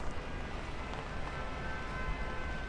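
Steady rain falls at night at Gardens by the Bay in Singapore as a continuous, even hiss with no breaks and a low background rumble.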